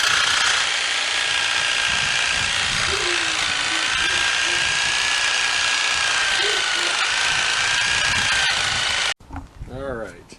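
A handheld power tool cuts through steel for a homemade tractor pitchfork, a loud continuous high whine held for about nine seconds before it stops abruptly, with a voice speaking briefly afterward.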